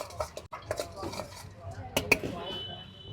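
Masala pav gravy with sev being stirred and mixed on a Surat street-food griddle, giving busy metallic clatter and scraping in short bursts, with voices talking nearby.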